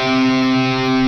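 A single sustained distorted electric guitar note rings loud and steady for about a second, an octave phrase from a solo, played alone with no talking.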